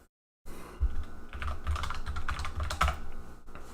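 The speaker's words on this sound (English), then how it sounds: "Which I have to type in my password." Someone types a password on a computer keyboard: a quick, uneven run of close, crisp key clicks and clacks that starts after a short silence and continues steadily, with occasional heavier keystrokes.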